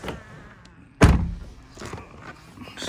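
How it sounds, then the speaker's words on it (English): A single solid Lexus LS460 car door thunk, close and loud, followed by faint rustling and small movements inside the car. "So if we can get in here and shut the door."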